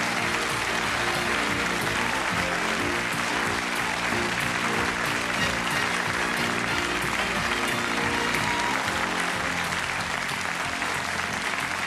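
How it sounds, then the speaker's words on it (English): Studio audience applauding on the 1990 British game show Strike It Lucky, a thick, even wash of clapping that carries on unbroken for about twelve seconds, with faint voices and music underneath. "Let's give them a nice round of applause."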